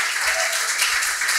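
An audience at a school quiz show applauds the contestants, a short burst of dense, even clapping with no voices over it.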